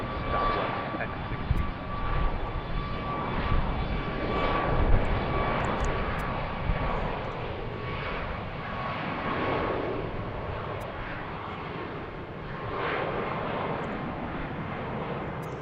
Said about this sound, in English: Clear for takeoff, runway 15 right, southwest 1016.